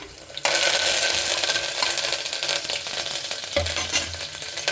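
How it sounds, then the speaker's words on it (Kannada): Chana dal and curry leaves hit hot oil, setting off a loud, bright sizzle that holds steady and continuous, with occasional stirring sounds and a few clinks from a utensil. "ಸ್ವಲ್ಪ ಅದು ಎಣ್ಣೆಯಲ್ಲಿ ಫ್ರೈ ಆಗಬೇಕು"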